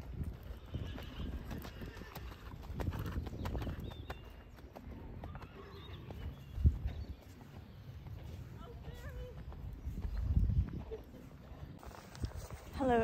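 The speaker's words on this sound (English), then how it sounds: "look at this horse" Horses move around a busy barn yard during show-season jump schooling, hooves clip-clopping irregularly with a horse whinnying nearby, while several people talk in the background.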